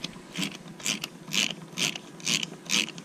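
A 9/16 ratchet wrench loosens a fastener during B16 cylinder head valve work, giving about six evenly spaced bursts of close, crisp ratcheting clicks with no talk.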